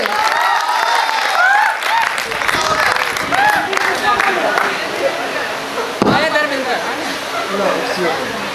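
An audience claps and cheers in a lively stretch under loud talking and laughter on stage, the applause dense and continuous throughout.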